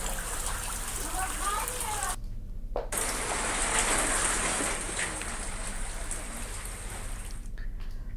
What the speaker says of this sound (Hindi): मुंगेली के लोरमी खुड़िया इलाके में झमाझम बारिश हुई है।